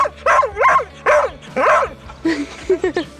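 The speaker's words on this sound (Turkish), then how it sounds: "Av köpeği ama hiç hava gitmemiş. Böyle Minnoş minnoş heyecanlanıyor." A hunting dog gives a string of high, excited whines and yips, several rising and falling cries in quick succession, close by with no talking.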